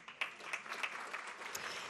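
Audience applause at a 2011 economic development breakfast, a brief round of fairly soft, steady clapping from a crowd in a room, continuing evenly without speech.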